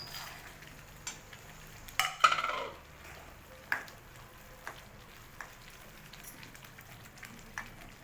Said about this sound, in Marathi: आता त्याच्यात वाटाणे टाकतो